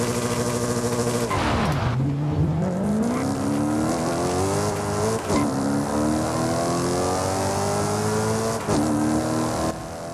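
A 2010 Maserati GranTurismo S engine in the Forza Horizon 5 video game revs hard and loud, climbing through gears with sharp shift drops and rising pitch sweeps, a continuous close-up roar throughout.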